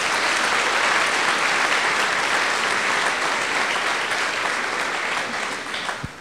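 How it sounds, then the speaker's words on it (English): A conference audience claps warmly in a sustained round of applause, dense and even for several seconds before thinning out and fading near the end. "So let's give them a little round of applause."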